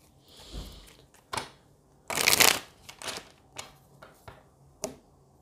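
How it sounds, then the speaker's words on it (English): A deck of tarot cards is shuffled close by, with soft riffling and papery slaps in several short bursts, one louder riffle in the middle. "I'm going to shuffle them a couple more times and then I'm going to start."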